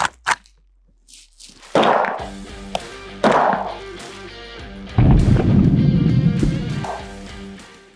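A single sharp 5.45 mm rifle shot rings out, followed by heavy metallic impacts on an armor plate and a loud, rumbling crash, with scattered thuds in between.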